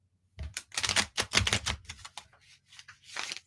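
Tarot cards being shuffled by hand close up, a quick run of dry clicking and snapping bursts in an uneven rhythm with short gaps, fairly quiet and free of talk.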